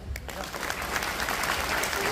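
An audience at a network-marketing talk in Assam breaks into steady clapping, a dense continuous patter of many hands that holds for a couple of seconds, fairly loud and close, with faint voices underneath.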